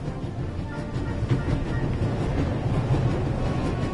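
A train running at full speed in The Raven video game, a steady loud low rumble with faint rhythmic clatter throughout, no voices.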